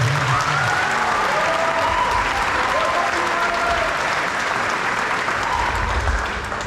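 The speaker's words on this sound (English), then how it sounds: "round of applause for the 17 boys" A crowd at a volleyball club's opening ceremony claps in sustained applause, dense and energetic, with a few voices faintly mixed in before it tapers slightly at the end.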